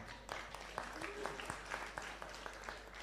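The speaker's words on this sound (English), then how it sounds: "Please let us clap for people from Myanmar." Audience applause at a gathering, honoring people from Myanmar, with scattered claps over a steady crowd murmur and a speaking voice. Moderately loud and sustained throughout.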